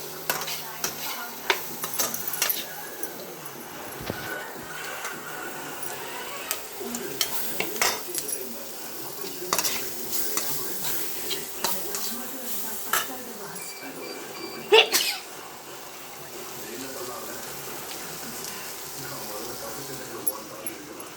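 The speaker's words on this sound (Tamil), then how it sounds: "எண்ணெய் பத்தலைனால எண்ணெய் ஊற்றிருக்கேன். நல்லா வதக்கிடலாம்." Something sautés in oil in a pan while a utensil scrapes and stirs, giving intermittent clinks and knocks over a low sizzle, with a voice speaking in between.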